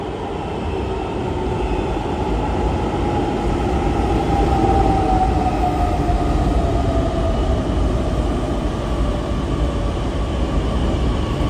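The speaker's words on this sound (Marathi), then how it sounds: "माझी थोडक्यासाठी मेट्रो ट्रेन चुकली" A metro train at PCMC metro station, a loud continuous rumble with a rising electric whine as it moves off, steady and close throughout.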